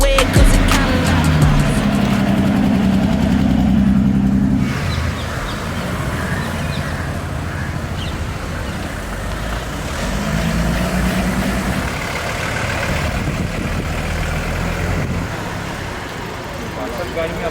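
An older Mercedes-Benz car cruising through Mumbai streets behind other vintage Mercedes, with a steady engine drone and road noise mixed with surrounding traffic, loud at first and then settling to a continuous lower rumble.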